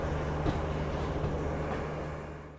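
An Indian Railways ICF Yuva Express train rumbles along, heard from on board as a steady low roar with a droning hum, loud and continuous throughout, easing slightly toward the end.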